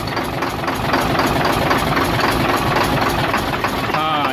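A Hino truck's diesel engine idles close by with a rough, knocking pulse during an injector-by-injector check for a misfire and smoke fault, droning steadily throughout.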